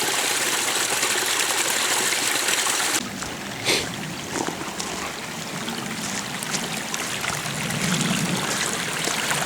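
A stream of water runs across a dirt road, a loud, continuous rushing and gurgling close by, with a brief knock and shifting splashes partway through.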